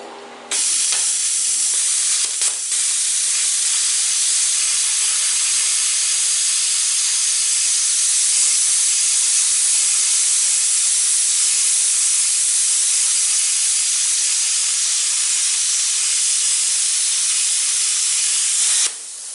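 A Jegs plasma cutter running at 40 amps slices through 3/8 inch steel, giving a loud, steady, unbroken hiss that lasts close to twenty seconds before cutting off abruptly.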